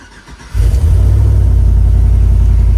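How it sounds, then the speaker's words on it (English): An E85-tuned Chevrolet Tahoe fitted with a cold air intake fires up and settles into a loud, deep, steady rumble heard up close, with no voices over it. "let's fire her up and give her a couple revs and see what it sounds like"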